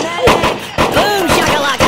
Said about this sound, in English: shooting the floor now